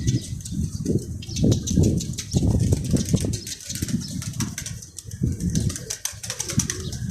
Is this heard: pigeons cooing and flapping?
yes